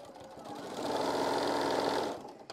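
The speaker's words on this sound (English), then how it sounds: "Now I'm going to just sew a quarter of an inch" A sewing machine stitches a quilt block seam, its rapid, even whirring rising after a soft start, running steadily for about a second, then winding down with a small clack at the end.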